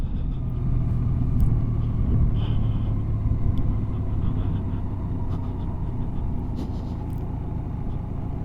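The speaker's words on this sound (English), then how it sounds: "That's ticking over 500 revs, 10 mile an hour." A Honda Gold Wing GL1800 motorcycle engine ticks over slowly and steadily at about 500 revs, close by, with a deep continuous rumbling drone and no talk.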